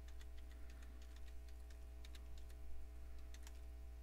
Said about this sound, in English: So type in administrator.